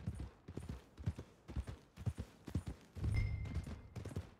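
Horse hooves clip-clop in a steady walking rhythm in Red Dead Redemption 2, fairly close and moderate in loudness, with a brief low rumble near the end.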